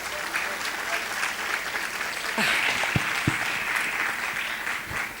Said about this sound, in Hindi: एक बार जोरदार तालियां हो जाए मैम के लिए।